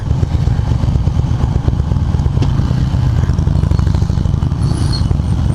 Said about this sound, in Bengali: ও আওয়াজটাই একটা অন্যরকম। লাভলি হার্লে ডেভিডসন চলে গেল আমার সামনে দিয়ে।